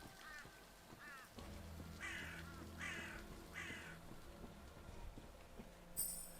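Crows caw in the video game Wuchang: Fallen Feathers, several harsh calls spaced about a second apart over a low, steady ambient drone, with a brighter cry near the end.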